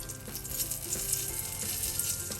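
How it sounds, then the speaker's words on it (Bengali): Dried chilies sizzle and crackle in hot mustard oil in a pan, a close, steady frying hiss with scattered pops and light stirring, no voices. "এখন আমি শুকনা মরিচ দিয়ে দিব"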